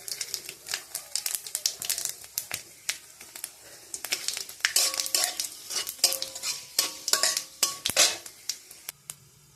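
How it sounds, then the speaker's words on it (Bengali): Bay leaf, five-spice, dried red chillies, cinnamon, cardamom and cloves hit hot oil, giving dense crackling and popping with scattered sharp clicks and rustling spatters. The sound is close and busy and builds toward the end. "এগুলি আমি দিয়ে দিচ্ছি তেলের মধ্যে।"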